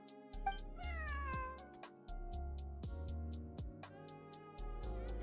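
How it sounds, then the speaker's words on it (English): A cat meows repeatedly in Genshin Impact, with several clear, drawn-out cries rising and falling over steady game music and an accompanying rhythmic backing. "Wait, where did you get the cat?"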